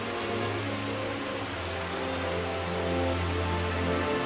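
Steady rain in London in the video game Uncharted Waters, an even, dense hiss of falling drops with a low tonal hum beneath, continuous and unchanging throughout.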